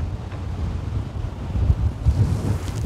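Strong wind on an outdoor golf course buffets the microphone, a loud, steady low rumble with gusts swelling toward the end.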